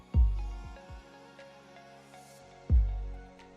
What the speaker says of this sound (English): So for the kicks, as a bass I have used boom bap kick from the electronic kits